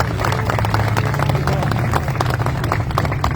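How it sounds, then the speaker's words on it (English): A dense round of applause rolls through the crowd at a Back the Blue rally for the NYPD, loud and steady throughout, with voices mixed in. "Once again, nice round of applause to the NYPD."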